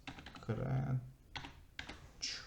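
Computer keyboard typing while naming a folder on Google Drive, a few soft key clicks in short clusters under a voice speaking nearby.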